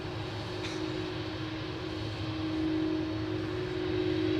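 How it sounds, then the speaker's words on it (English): A CF6-powered jet airliner's engines roar steadily at Anchorage, a loud, continuous broadband rumble with a strong sustained tone, slightly swelling in the second half. "So this is another CF6 powered jet"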